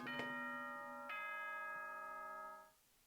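Doorbell chime from the Danganronpa 2 video game: two bright bell strikes about a second apart, each ringing out with long sustained tones that fade after nearly three seconds, loud and alone.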